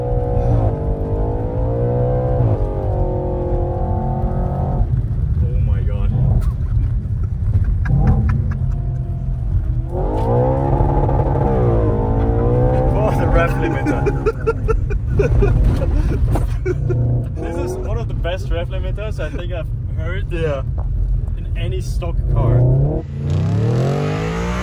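Audi RS4 quattro engine revving hard while drifting on snow, with a loud, sustained roar rising and falling through gear changes up close, and a voice talking over it at times.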